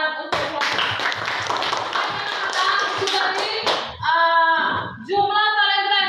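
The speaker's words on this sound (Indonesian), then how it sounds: "Tepuk tangan untuk kelompok." A class claps for a student group during a lesson, several seconds of loud, close, dense hand clapping that stops abruptly, followed by voices chanting or calling out in unison.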